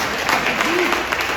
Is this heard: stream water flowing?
no